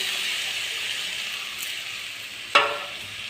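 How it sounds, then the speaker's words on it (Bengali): Tomato paste sizzles in hot oil with fried mustard seeds for a tomato chutney, a steady close hiss with a sharp burst of crackle near the end as the paste hits the pan. "টমেটো পেস্টটা দিয়ে দিলাম"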